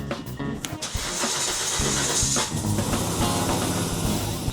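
A car engine cranks and fires up after its fuel injectors were replaced, settling into a loud, steady idle close by with no talking over it.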